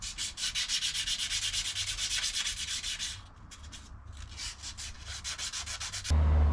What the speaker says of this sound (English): a bit of brake cleaner to clean all the mating surfaces up